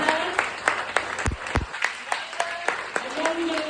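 A small audience claps after being asked, scattered individual claps spread across the moment with a couple of low thumps and some background chatter.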